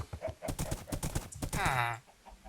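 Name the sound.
horse trotting in a survival video game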